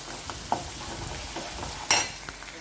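Ginger garlic paste fries in a pan for a shrimp, egg and drumstick curry, giving a soft steady sizzle with light stirring scrapes and a louder clink of the utensil, close and without talking.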